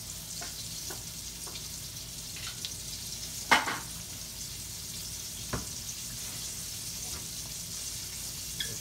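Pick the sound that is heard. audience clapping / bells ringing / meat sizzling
meat sizzling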